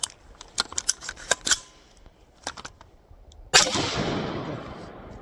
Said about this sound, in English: Put some more round through.